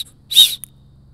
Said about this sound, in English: what would a Fox 40 kit be without a Fox 40 whistle?